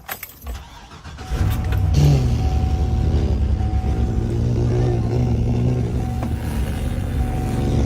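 A 6.2 liter V8 engine cold-starts with a brief starter crank, then catches into a loud, deep, rumbling idle that stays steady and close.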